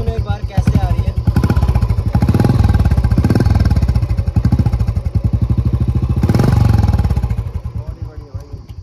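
Royal Enfield Classic 350 motorcycle fitted with an aftermarket exhaust, idling and revving with a loud, deep, steady thumping beat close by, swelling twice to fuller revs.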